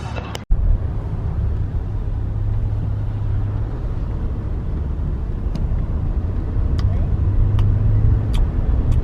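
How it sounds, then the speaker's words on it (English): Steady road traffic rumble from cars on a busy highway, heard from inside a moving vehicle, continuous and moderately loud, with a sharp knock near the start and faint ticks later. "Lots of traffic."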